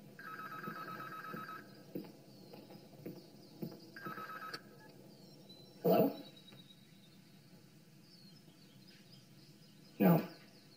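Home telephone ringing with an electronic warble, several quieter trills early on, then two loud distinct rings about four seconds apart, set in a quiet room in the 2014 film Taken Away.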